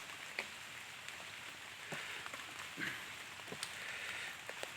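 Steady rain hissing down on a surface, with scattered louder drips and patters throughout. No voices.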